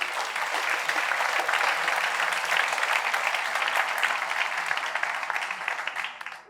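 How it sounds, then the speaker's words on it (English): A large audience gives a sustained round of applause for a platinum sponsor at a conference closing session, dense and steady throughout before tapering off at the end. "I would like to hear a big round of applause for Fidza, a platinum sponsor"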